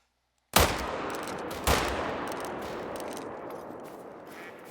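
Two gunshots in The Hunter: Call of the Wild hunting game, a sharp blast followed about a second later by a second report, each trailing into a long, slowly fading outdoor echo, with no talk.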